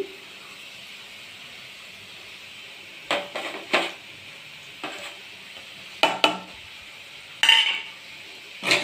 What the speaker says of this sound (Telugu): వెల్లుల్లి, కొబ్బరి పొడి దంచి పెట్టుకున్నాం కదా, ఇది ఇలా వేసేసుకోవాలి